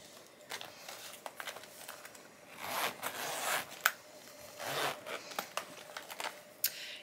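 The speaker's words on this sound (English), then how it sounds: "So we'll go ahead and zip this side up." A travel makeup bag is zipped up in a few quick, close, rasping zipper pulls, with light handling rustles and clicks between them and no talk.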